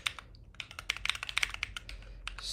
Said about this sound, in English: I'm so bad at typing sometimes.